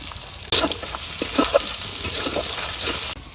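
Chopped onion frying in hot oil in a pan while a Bengali home cook makes pumpkin with dhela fish, a loud steady sizzle that jumps up suddenly as the onion goes in and then keeps going before it cuts off near the end.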